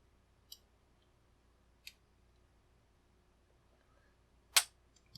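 An OnGuard 8101 Beast padlock, with ten sliders and two side bars, being picked open: a few faint, sparse metallic clicks and ticks from the pick and tension wrench, ending in one sharper, louder snap.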